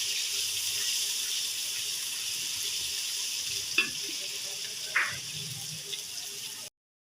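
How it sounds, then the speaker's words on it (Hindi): Garlic paste sizzling and frying in hot oil, a steady bright hiss with a couple of soft stirring knocks, close and continuous, then cutting off abruptly near the end. "ऑयल जो हमने गर्म होने के लिए रख दिया है, गर्म हो चुका है तकरीबन। अब इसमें हम 1 चम्मच जो है वो लहसुन का पेस्ट डाल देंगे।"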